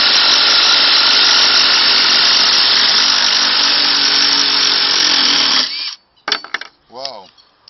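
A Makita impact driver, old 6935FD or newer BTD136, reverses a screw out of wood with a loud continuous buzzing whir for over five seconds, then stops, followed by a few short clicks and rattles.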